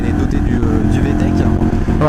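A motorcycle engine with VTEC revving loudly and steadily up close, its strong harmonic drone running under someone speaking French.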